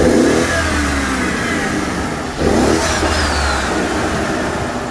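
BMW 550xi F10 V8 with dual intake pipes, an air filter and stock mufflers revving in two loud, close bursts, each rising sharply and holding a strong throaty roar, with no voices.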